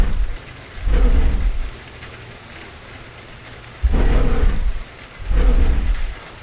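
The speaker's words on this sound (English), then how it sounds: "So is each room still raining outside?" Steady rain falling outside in the horror game Dungeon Nightmares 2, a continuous hiss with three heavy rumbling surges like thunder or gusts rolling through at intervals.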